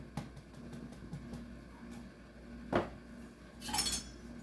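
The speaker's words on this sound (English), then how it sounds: "Mix it well, okay? So everything is incorporated." Slider ingredients being mixed in a bowl with cutlery: quiet, scattered clinks and taps of metal against the bowl, with a brighter clatter near the end and no talking.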